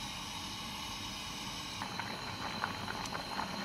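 Rice boils in a pot of water on the stove, giving a steady bubbling hiss with soft popping bubbles that grow busier toward the end.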